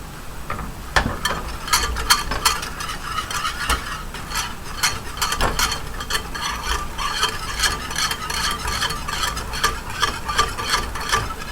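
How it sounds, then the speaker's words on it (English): Chocolate whisked briskly into a coffee drink, a rapid run of clinking, rattling whisk strokes against the cup, close and continuous, with no talking. "just kind of whisk it in. And splatter it around"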